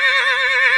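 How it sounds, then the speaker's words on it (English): A horse neighs once, a close, loud, sustained whinny with a wavering pitch, heard on its own. "Horse."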